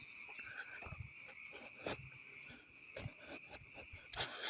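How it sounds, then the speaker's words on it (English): Toad croaking in woodland during a night hike, faint scattered calls over a steady insect trill, with a few soft knocks and rustles. "Oh, there's the toad."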